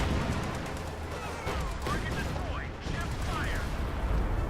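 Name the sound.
artillery fire in video game Company of Heroes 2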